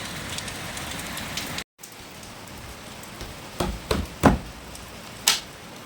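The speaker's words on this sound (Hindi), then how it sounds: "और बाहर बारिश चल रही है, बारिश हो रही है, बारिश चल रही है।" Steady rain falling outside a home, a soft continuous hiss with a brief dropout, joined later by a few sharp knocks or drips standing out near the end.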